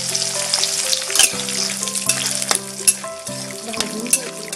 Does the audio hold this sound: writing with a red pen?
no